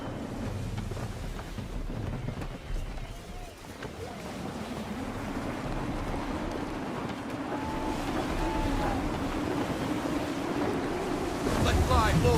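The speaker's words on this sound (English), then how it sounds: "Gusty winds can be difficult to manage." Gusty wind and waves at sea in Assassin's Creed III, with a steady roar of surf and wind rushing around a sailing ship, swelling louder toward the end, while faint voices and game music sit underneath.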